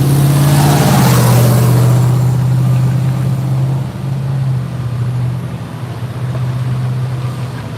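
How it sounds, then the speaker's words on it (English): An aggregate hauler truck arrives at the SpaceX Starbase launch site construction area in Boca Chica, Texas. Its engine is a loud, steady, low drone that eases off and dips in level partway through, with no voices. "check this aggregate hauler coming in with more aggregates"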